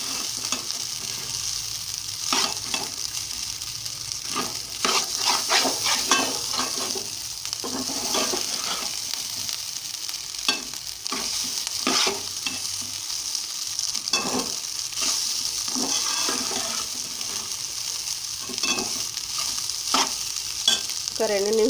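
Rice stir-fries in a pan for fried rice, with continuous sizzling and repeated scraping and clinking of a spatula against the pan, fairly close and alone without talk.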